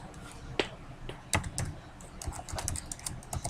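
Typing code on a computer keyboard: irregular clicking keystrokes in quick bursts, close and clear, with short pauses between runs of keys.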